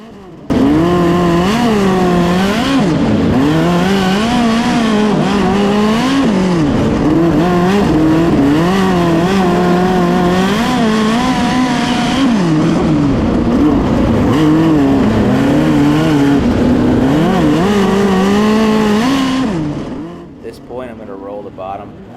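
Midget race cars at the Chili Bowl race on an indoor dirt track with loud, close engines that rev and wail up and down steadily for about twenty seconds before fading, and a voice talks over them.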